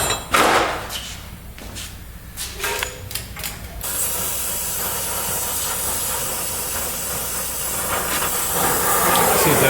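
Steady, close torch hiss heats a seized exhaust manifold nut on a Ford F150, starting with a few uneven bursts and settling into a continuous roar that swells slightly toward the end.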